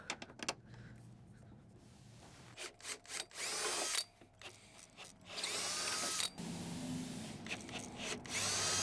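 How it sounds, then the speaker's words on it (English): A power driver sinks screws into a door bracket of a 2026 STOP-STAY door safety system, buzzing in several bursts that rise to long sustained whirs, close up, with no talking. "we'll go ahead and get those screws in"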